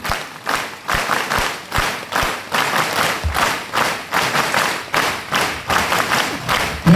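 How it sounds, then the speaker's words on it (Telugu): An audience at a seminar on financial freedom claps together in a counted rhythm, loud regular bursts of many hands about twice per second, each group clap landing with a heavy thud. "ఒక్కసారి కొత్తగా వచ్చిన మీ అందరు కూడా ఒక క్లాప్ కొట్టి ముందుకెళ్దాం"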